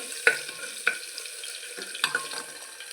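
Crushed garlic fries lightly in a pan and is stirred, with a few distinct clinks and scrapes of the utensil over a faint background sizzle, quiet and close.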